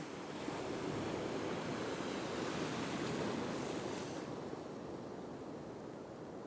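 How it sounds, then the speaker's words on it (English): Strong ocean surf breaks steadily on a Scottish beach during turbot fishing, a loud continuous wash of crashing water with wind noise buffeting the microphone throughout. "the waves, see when they hit you, they're bloody strong"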